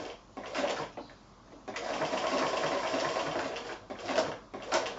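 Domestic sewing machine working a blanket stitch around fused applique on quilting fabric, a close, steady mechanical whirring in runs broken by brief pauses and restarts, with no voices.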